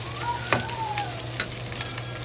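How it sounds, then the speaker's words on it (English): Rice with egg being stir-fried slowly in a pan, a steady close sizzle with a few sharp scraping and tossing strokes from a utensil, no voices. "So just slowly fry."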